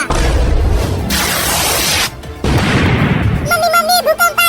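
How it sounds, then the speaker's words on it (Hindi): A big cartoon firecracker goes off near a house as a loud, sustained crackling blast that stops abruptly and then bursts again, followed by tinkling, ringing cartoon sound effects. "लगता है किसी ने हमारे घर के पास एक बड़ा पटाखा फोड़ दिया है।"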